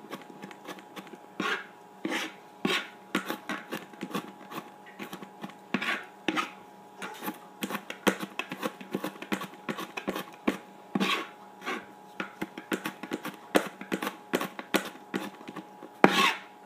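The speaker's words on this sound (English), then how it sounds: "I'm going to start by cutting up the garlic" A knife chopping garlic on a cutting board, a steady run of close, crisp taps in irregular bursts, with no talking.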